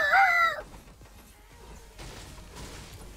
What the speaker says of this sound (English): Sorry, did you hear that? It was my pet bird.